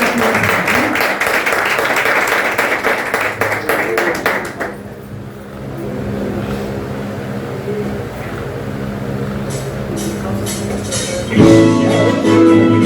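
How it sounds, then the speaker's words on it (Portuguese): A church congregation applauds during a worship service, a dense wash of clapping filling the first few seconds before fading into a lower room murmur with scattered sounds, then a swell of louder activity near the end. "Vamos aplaudir ao Senhor, não é mesmo?"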